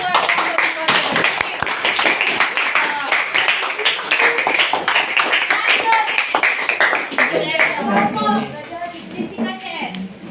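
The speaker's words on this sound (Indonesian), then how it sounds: "Oke, tepuk tangan dulu" Classroom clapping from students during a lesson, a lively burst of many hands that tapers off into chatter and voices near the end.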